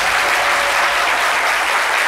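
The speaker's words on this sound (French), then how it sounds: "Merci de l'applaudir encore une fois." Studio audience on a French-language TV talk show applauding a guest columnist, dense close clapping that stays loud and even from start to finish with no voices over it.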